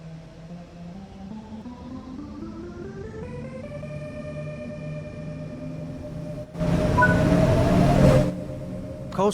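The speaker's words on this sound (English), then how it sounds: "Release the train brake and use the throttle to apply some power to get moving." A diesel locomotive in Train Sim World 3 throttling up from standstill, its engine hum climbing in pitch through distinct steps before holding steady, then a loud burst of hissing air near the end.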